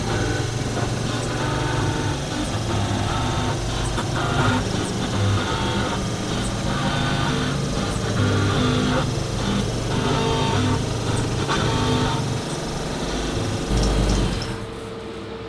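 A milling cutter takes 0.2 inches off the top of a rocket part clamped in a vise, a sustained mechanical grinding whine with irregular chattering bursts throughout, then quieting at the end.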